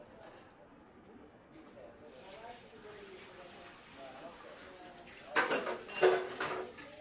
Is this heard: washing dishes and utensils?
yes